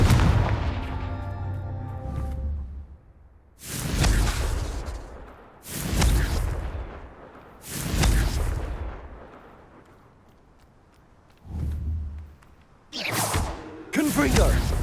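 Repeated Confringo fire-spell blasts in Hogwarts Legacy on Xbox Series X, about five loud booming bursts with whooshing tails, spaced a second or two apart between quieter gaps.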